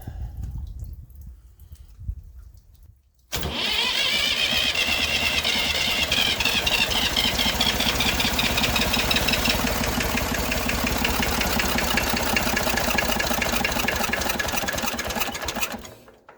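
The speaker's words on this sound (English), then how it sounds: "We're going to crank it back up, see if we got any leaks on these fuel injectors." A Massey Ferguson 35 diesel tractor engine cranks and catches after about three seconds of quieter sound, then runs loud and steady with a busy clattering idle until it fades at the end, with a fuel injector leaking at its base.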